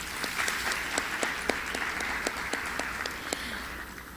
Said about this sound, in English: So Sherry, why don't you stand up and let them applaud you.